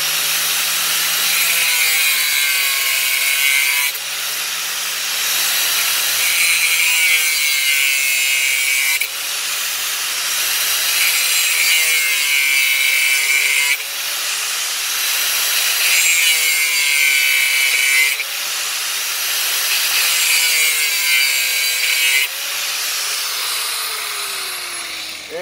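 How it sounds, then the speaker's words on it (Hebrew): An angle grinder cuts 6 mm round iron bar in a loud, sustained high-pitched grinding whine, broken into several long passes of a few seconds each with brief dips between them. "פה אני חותך ברזל עגול 6 מילימטר."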